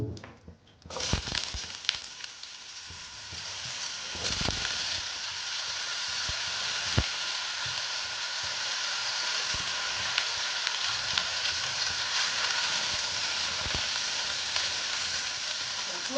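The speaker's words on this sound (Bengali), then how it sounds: "আলুটা দিয়ে একটু আমি নেড়ে চেড়ে নিচ্ছি।" Potatoes hit hot oil in a pan while cooking a spinach dish, then fry with a continuous bright sizzle for a long stretch, punctuated by scattered clicks and scrapes of stirring, close and fairly loud.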